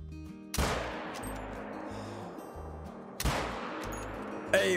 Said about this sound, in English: Hey, we got that drop shot though.